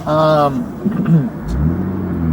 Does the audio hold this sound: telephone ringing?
no